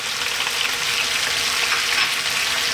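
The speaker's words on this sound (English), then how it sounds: "let's drop in our onion and our garlic" Chopped onion and about a tablespoon of chopped garlic sizzle loudly in a hot pan, a dense, steady crackling hiss heard close up with no voices.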